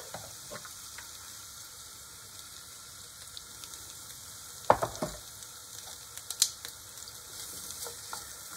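Chicken sweats in a pan with garlic purée, making a quiet, steady sizzle broken by a few sharp clinks and scrapes partway through.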